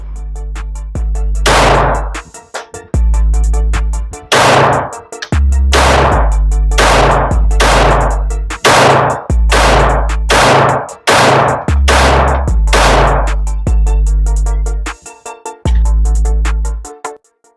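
A Smith and Wesson Bodyguard 2.0 pistol with an extended magazine fires a string of loud, sharp shots at an uneven pace, some in quick pairs, and each shot rings out briefly.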